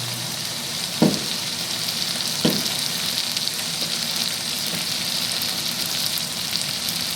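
Onion, ginger, garlic and green chili fry with spices in oil for mutton curry, a loud, even sizzle broken by a couple of sharp stirring knocks.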